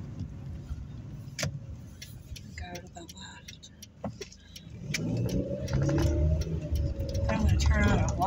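A car drives along the town streets of Coffeyville, Kansas, past old houses and churches. A steady engine and road hum grows louder partway through, under scattered clicks and light rattles, while people talk inside the car.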